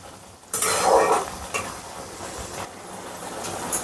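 Gongura prawns with masala frying in a pan, a steady close sizzle with scraping and clinking of a spatula against metal, no voices.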